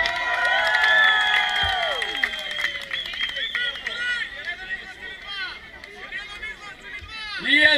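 A crowd at a hip hop dance battle cheers and claps for the DJ. Whoops and whistles ring out over scattered clapping and crowd noise, and a loud voice speaks over the top.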